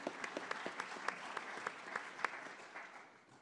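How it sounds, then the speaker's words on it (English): An audience at a formal evening medal presentation breaks into applause, a brief, moderately faint patter of many hands clapping that fades out after a few seconds. "you're applauding me now."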